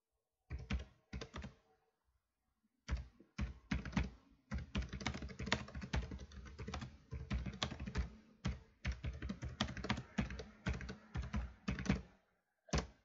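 Keys on a computer keyboard are typed in bursts of rapid clicks while working in Word, with short pauses and heavier thunks like the enter key. The tapping is close and clear, with no talking.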